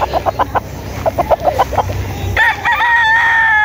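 Hens cluck in a quick, uneven series, then a rooster's drawn-out crow rises near the end, fairly loud and close.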